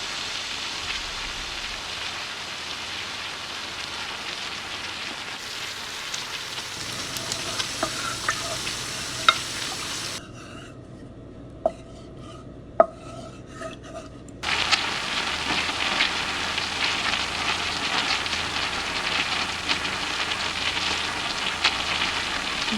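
Finely chopped onions or shallots fry in a pan for a Kerala-style sardine curry. The sizzle is steady and crackly with scattered small pops, and it drops quieter for a few seconds before returning full strength.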